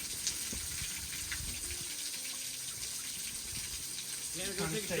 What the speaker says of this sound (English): there's another waterfall directly underneath me